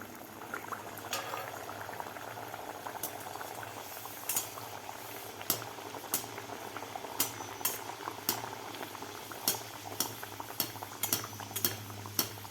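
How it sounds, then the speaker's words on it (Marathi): Rava puri, a sweet semolina puri, frying in hot oil: a steady, quiet bubbling fizz with scattered sharp clicks and pops, heard alone with no talking. "दुसरी सुद्धा सांजुरी आपण तेलामध्ये सोडून घेऊया."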